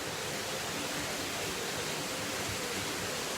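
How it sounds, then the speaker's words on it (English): Water pours into an opening along an outdoor walk, making a steady, dense, close rushing roar with no break and no voices. "Oh wow, the sound of that water going in there had a..."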